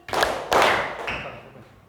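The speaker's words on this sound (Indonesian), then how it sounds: "Tepuk tangan 2 kali." Children in a classroom clap their hands on a teacher's cue: two distinct, sharp group claps, each followed by a short ringing decay, then quieter noise.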